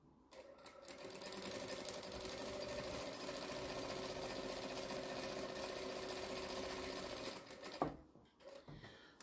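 A sewing machine top stitching the strips of a jelly roll tote bag runs in a steady, continuous whir for about seven seconds, then stops with a small clunk and a few lighter mechanical clicks.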